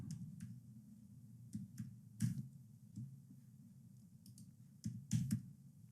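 Sparse, quiet taps and clicks, likely from entering a two-factor security code from an authenticator app, arriving singly and in small clusters at irregular intervals against a low steady background hum.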